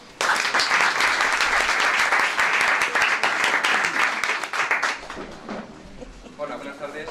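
An audience at a book launch applauds loudly and steadily for about five seconds, then the clapping thins out and fades as a voice begins speaking in Spanish.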